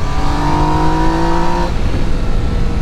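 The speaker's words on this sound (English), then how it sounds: "The quick shifter is super smooth, really impressive." A 2019 Yamaha Niken GT three-wheeled motorcycle engine pulls under load with a steady rising whine, then cuts sharply through a smooth quick-shifter upshift into a rougher, lower rumble, loud and close with no talking.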